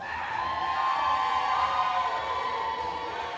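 A roller derby crowd of Apocalypstix fans cheers at a bout against the Glamma Rays, a steady wash of shouts and whoops holding at a constant level throughout.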